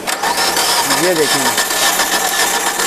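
A 2008 Suzuki Alto engine with a misfire is cranked and runs, giving a steady mid-pitched mechanical drone with a brief rising whine, while someone speaks over it.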